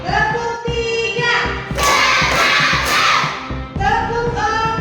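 Schoolchildren clapping in unison in a classroom, sharp rhythmic claps in quick bursts over background music, with a burst of louder, denser clapping in the middle.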